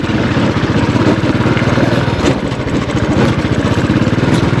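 Royal Enfield Bullet motorcycle thumping steadily on an off-road climb in Idukki, a loud, close single-cylinder beat with an even rhythm throughout.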